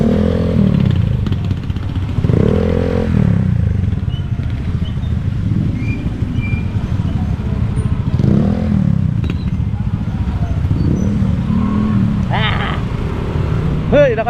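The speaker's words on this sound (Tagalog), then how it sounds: "Traffic" Road traffic with motorcycles and cars passing nearby, a steady engine drone with rising revs and occasional clatter, and someone talking over it throughout.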